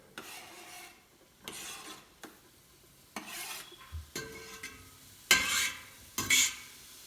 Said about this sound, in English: so what this is going to start doing is it's going to start sizzling